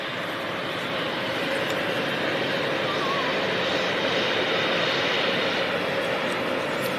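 A British Airways jet departing London City Airport roars steadily and loudly throughout, a dense continuous engine rumble with faint talk underneath.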